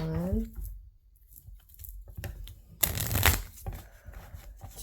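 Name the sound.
shuffling tarot oracle cards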